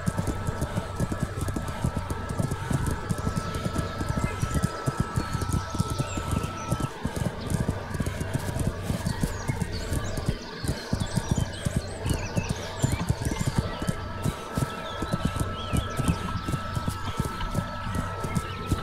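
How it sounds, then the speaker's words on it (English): Horse hooves clip-clopping in the medieval video game Kingdom Come: Deliverance, a dense, steady rapid rhythm of hoof strikes over terrain running continuously under a constant background hum. "As you go over terrain in this game, the horse will move with the terrain"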